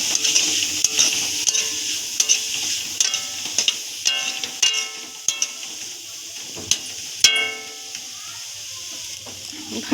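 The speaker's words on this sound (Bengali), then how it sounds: "দেখো কড়াইতে বাঁধাকপিগুলো সেই ভাজছিলাম" Shredded cabbage fries in a wok for chowmein, sizzling steadily while a spatula scrapes and clinks against the pan in irregular stirring strokes, close and alone.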